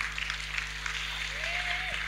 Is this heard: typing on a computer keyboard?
no